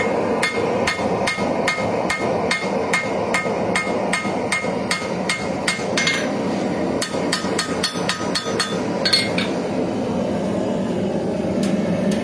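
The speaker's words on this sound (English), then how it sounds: "Now we're going to get some of our hammer marks out." Rapid metallic hammer strikes ring out while forging knife steel with an integral bolster, a steady fast series of close, loud blows that thins into a few scattered hits before stopping, over a constant workshop hum.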